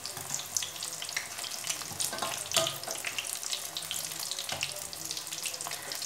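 Mini chicken samosas frying in oil over low heat, a busy bubbling and crackling hiss that stays fairly even with occasional louder pops and clinks.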